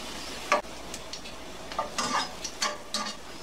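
Curry paste fries in hot oil with a soft sizzle, broken by several short scraping stirs of a utensil against the pan.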